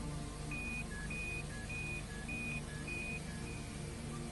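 Peugeot 206 BSI speed alarm, a series of short electronic beeps in a repeating two-pitch pattern, about eight tones over four seconds, moderately clear over a steady background hum.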